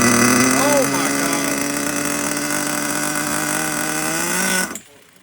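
An HPI Savage 21 nitro RC car engine running at a high, buzzing whine with steady harmonic tone, slight pitch wavering early on, then cutting off abruptly near the end; loud and close, with no talk over it.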